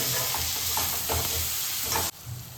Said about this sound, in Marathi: मित्रांनो आपला कांदा परततोय तर आपण त्याच्यात टाकणार आहे मीठ